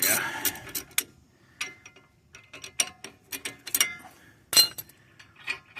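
A hand wrench ratcheting lug nuts off the wheel of a 2010 Mercury Mariner during a brake job, close irregular clicking and metallic clinks in short bursts, with some speech.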